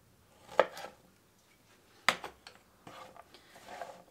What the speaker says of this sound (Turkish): Şimdi kabaklarımızı şöyle büyük olmayacak şekilde doğrayalım.